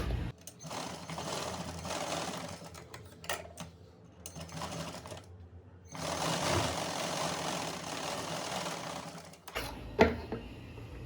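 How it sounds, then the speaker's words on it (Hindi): A sewing machine runs in steady stretches, stitching a salwar with double reverse stitching, its rapid mechanical chatter pausing briefly between runs, with a click near the end. "यहाँ भी डबल रिवर्स सिलाई लगानी है यहाँ भी"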